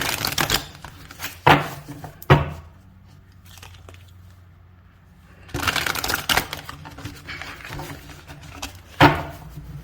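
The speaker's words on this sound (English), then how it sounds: "I'm just going to give this deck a shuffle" Cards riffle and snap in short bursts, a few quick shuffles separated by a quiet pause, close and fairly soft.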